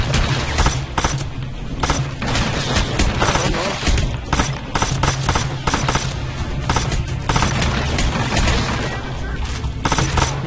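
Rapid bursts of gunfire crackle almost nonstop, dense and loud, in the video game Hitman: Absolution, with a voice talking now and then over the shooting.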